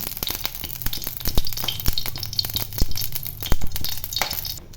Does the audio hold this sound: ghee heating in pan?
yes